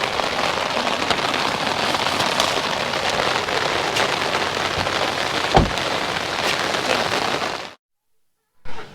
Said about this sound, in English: It is raining really hard right now